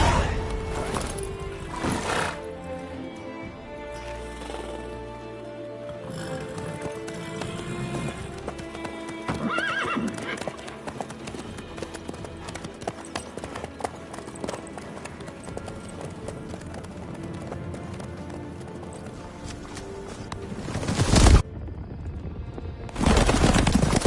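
Horse hooves clip-clop steadily alongside repeated whinnies while riding in The Witcher III: Wild Hunt, set over a continuous bed of game music and ambience, with a louder burst near the end.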